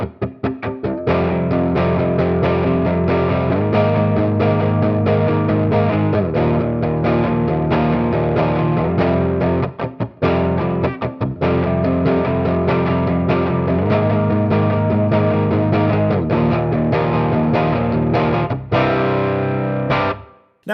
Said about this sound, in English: I'll dial this one in for a light overdrive first.